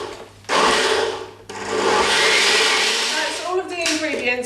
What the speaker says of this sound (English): I'm going to blend all of these ingredients together now